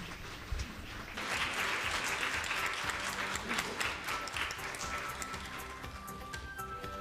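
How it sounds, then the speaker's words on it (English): A forum audience at the Tokyo Asset Management Forum bursts into sustained applause welcoming speakers to the stage, rising abruptly after a quiet second and continuing steadily before thinning near the end. "Let us welcome them by a big round of applause."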